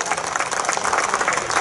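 Dense, steady clapping from an audience at an evening choral festival concert in Almyros, with no pause for its whole short length.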